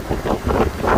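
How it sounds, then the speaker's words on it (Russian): Strong wind on the Antalya shore buffets the microphone in rough, low gusts that swell and fade through the whole short stretch, with no one talking. "ветер хоть и сильный, но не сказать, что холодный"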